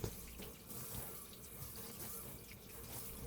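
Water runs from a tap in a steady stream, splashing unevenly over a wooden cutting board in a quiet, continuous rinse with no talking.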